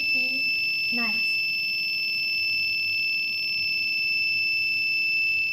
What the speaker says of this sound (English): The buzzer will alarm and the red LED lights.